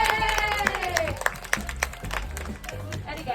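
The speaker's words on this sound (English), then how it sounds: "Come on, let's give him a big cheer." An audience at a seal show in a seaside aquarium in Rhyl claps and cheers, a bright burst of applause mixed with a presenter's voice and a few whistling calls. The clapping fades into scattered claps.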